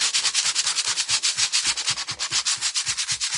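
A power sander works over a Dollar Tree glass mason jar, making a close, rhythmic rasping scrub in quick, even strokes that repeat without pause.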